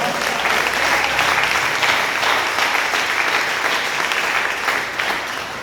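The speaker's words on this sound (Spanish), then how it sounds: "ese aplauso para Dios" Loud, sustained applause from a Spanish-speaking church congregation during a service, a thick wash of many hands clapping continuously for several seconds and easing slightly at the end.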